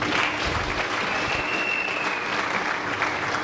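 A church congregation breaks into loud applause, dense and steady clapping from a big crowd filling the whole moment at an even, sustained level.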